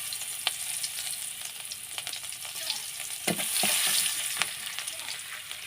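Chopped onions hit hot oil in a village kitchen pan, giving a steady crackling sizzle with a few sharp stirring scrapes and a louder surge of frying midway.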